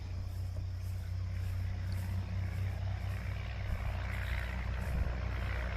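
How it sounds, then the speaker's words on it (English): Heavy trucks rumble past a disc golf course, a loud, steady low engine drone with road noise that swells slightly as they go by, with no talking. "Sorry about the loud trucks."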